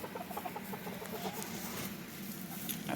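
Silkie chickens clucking softly in a winter backyard coop, faint and continuous against background noise, with no one speaking.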